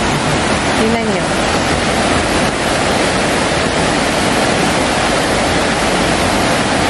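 Broad, constant rush of water flowing in a forest stream after heavy rain, loud and close, with a faint brief voice-like sound near the start.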